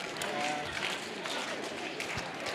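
Audience in a classroom game performing a rhythmic clap-and-snap pattern together, a dense group of hand claps and finger snaps filling the space, with voices mixed in.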